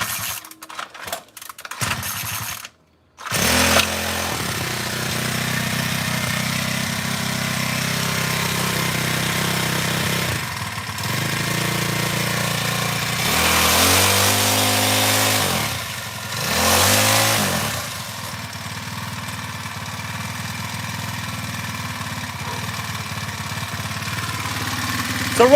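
A half Super Nitro RC build's small nitro engine idles low after sputtering starts, cut out briefly near the beginning, then runs steadily with occasional blips of revving and a buzzing exhaust close by.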